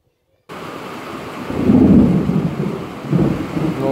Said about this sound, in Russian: Вот дождик и пошел. Он уже, наверное, час идет, не кончается.